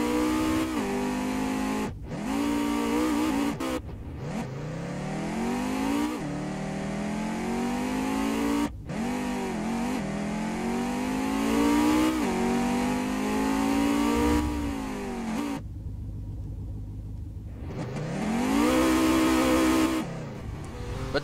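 Car engine in the Roblox game Wayfort revving hard in repeated rising and falling sweeps while drifting, loud and close, with brief cuts between bursts and a steadier idle-like stretch near the end.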